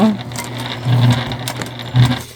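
Short bursts from a sewing machine stitching a seam on a fabric candy bag, with uneven stops and starts and a few faint clicks between them.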